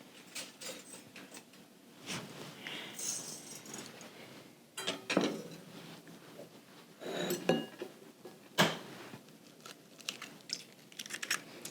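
A whisk being fetched in a kitchen, with scattered close utensil clinks, rattles and light knocks of metal against dishes, irregular and fairly quiet.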